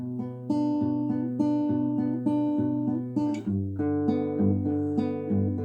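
A slow guitar chord progression, plucked note by note with each string ringing on into the next, warm and close with no talking.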